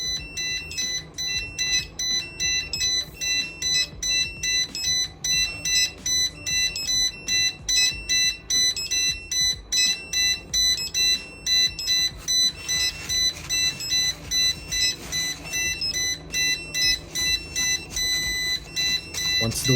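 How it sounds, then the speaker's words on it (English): A water leak sensor alarm triggered by water: rapid, loud electronic beeping repeats in a steady pulsing pattern, a shrill alarm tone sounding continuously with a faint hum underneath. "The sensor immediately detects water. It starts beeping. And the hub also triggers an alarm."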